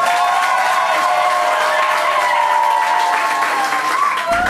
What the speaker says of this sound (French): on va à nouveau applaudir